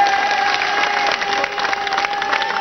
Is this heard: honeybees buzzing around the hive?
no